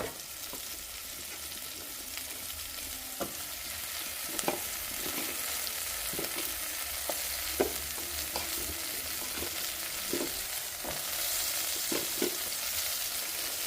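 Bottle gourd pieces sizzle steadily in a hot pan while a spoon stirs them, leaving a run of soft scraping clicks over a constant frying hiss, with no voices.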